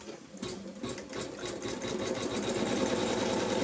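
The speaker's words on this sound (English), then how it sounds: "And I'm going to put that back on the machine, and the next colour we'll do the quilting." Close and steady, a sewing machine runs quilting stitches through fabric, its rapid mechanical chatter holding a constant pace that grows slightly louder over a few seconds.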